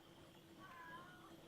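A woman imitates cat meows in the background, a drawn-out mewing call in the middle of the clip, faint and somewhat distant against a low steady room hum.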